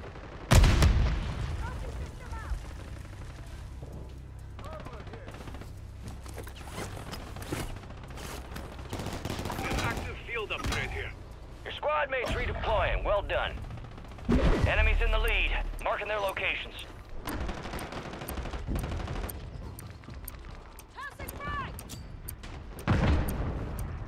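Grenade blasts and bursts of gunfire from a Call of Duty match, with loud booms and rapid shots, the heaviest bangs near the start, middle and end, under radio-style voice callouts.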